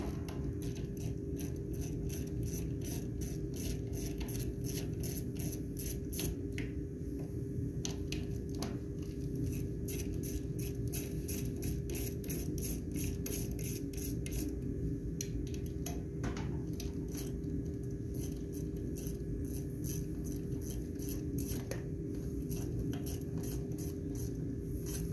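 Four 5/16 bolts come off a Reddy 110,000 BTU torpedo heater with quick, rapid clicking over a steady low hum, close and fairly faint, with no talking.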